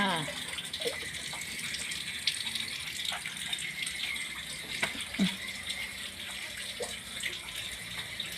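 A water tap opened to a low, steady run gushes and trickles continuously in a kitchen, with scattered clinks and rattles, while people talk over it.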